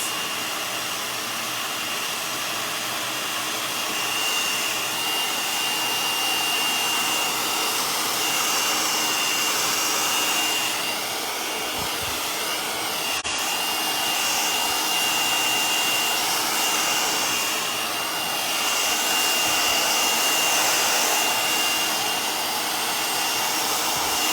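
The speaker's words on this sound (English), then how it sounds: "So I'm going to have to order one of those silent dryers." A loud hair dryer blows steadily over a freshly decoupaged cabin nightstand, a continuous whooshing drone with slight swells in pitch, running alone without talk.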